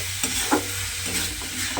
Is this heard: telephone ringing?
no